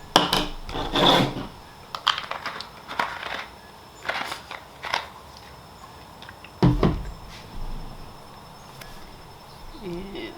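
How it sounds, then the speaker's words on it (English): Yarn being stirred into a dye bath of water with two tablespoons of vinegar, giving irregular scraping, rubbing knocks and splashy swishes, some strokes louder and close, with quiet gaps between them. "Stir it up."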